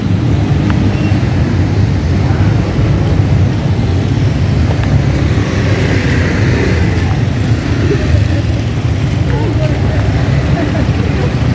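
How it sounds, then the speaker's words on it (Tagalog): Busy road traffic in Imus, Cavite at night, a constant loud wash of passing vehicles and engine rumble, with a person talking over the noise throughout. "Marami, medyo marami po ang sasakyan, tapos medyo maingay po."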